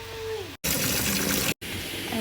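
Tap water gushes steadily for about a second while vegetables are washed for a healthy vegetable stir-fry, with a short, quieter stretch of kitchen sound on either side.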